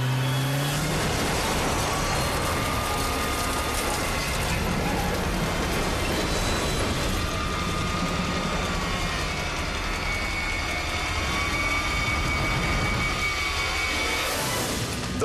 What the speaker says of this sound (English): The van tries to cut around the pickup, but the truck turns directly into their path.